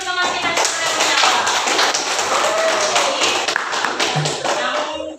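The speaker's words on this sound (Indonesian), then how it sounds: "Tepuk tangan dulu untuk teman kita sudah menyapa." Classroom students clapping for a classmate, a loud burst of scattered hand claps with some taps and thumps, voices mixed in underneath.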